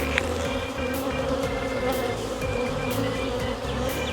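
Dense, continuous buzzing of many honey bees close by at a hive, a steady humming swarm with occasional louder passes of single bees.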